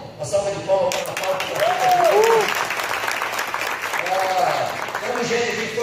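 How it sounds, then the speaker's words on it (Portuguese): Crowd applause for leaders from Natal at a Brazilian leadership event, sustained clapping and cheering from a sizable audience, with a few shouts and whoops rising above it. "Uma salva de palmas para Natal."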